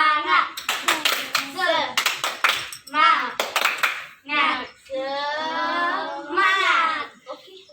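Young schoolchildren clap together in rhythmic bursts of fast hand claps for a spirit clap routine, alternating with a group of voices chanting and shouting, close and lively in a classroom.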